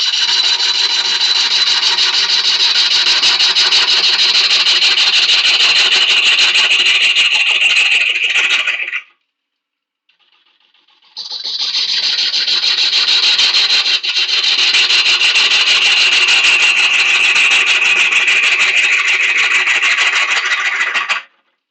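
Wood cut on a spinning lathe by a tool taking too big a cut for the speed, giving a loud continuous rasping scrape that stops briefly partway, then resumes steadily, close up with no talk.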